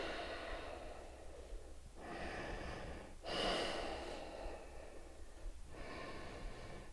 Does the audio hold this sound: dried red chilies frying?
no